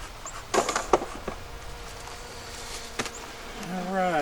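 Honeybees hum in a steady, low drone around an open beehive being prepared for winter, with close handling clatter and knocks over the buzzing and a voice briefly speaking near the end.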